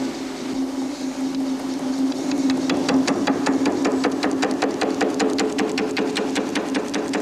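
Eckold Kraftformer machine with laminate-faced tooling finishing aluminium or stainless steel surfaces: a steady motor hum, then a fast, even train of sharp mechanical strikes that continues close up to the end.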